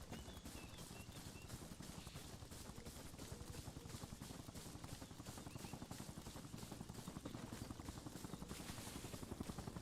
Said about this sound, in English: It sounds like a Huey. Yeah, we got a Huey land in here with probably troops.